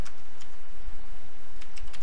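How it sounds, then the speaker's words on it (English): Rapid typing on a computer keyboard, a dense run of close, crisp key clicks with no talking. "here just type"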